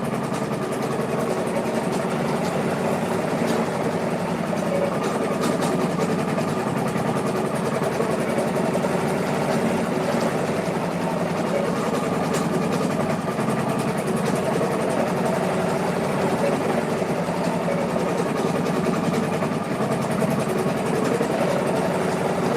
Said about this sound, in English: Your machine makes a thunking sound when the needle gets dull.